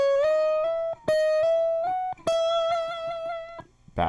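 Slide guitar in open E tuning plays a staircase pattern of single notes on the first string, each bright, sustained tone gliding up and down in short rhythmic groups, close and clear with no talk.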